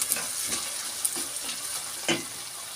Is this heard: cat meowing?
no